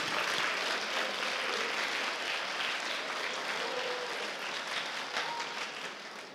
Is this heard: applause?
yes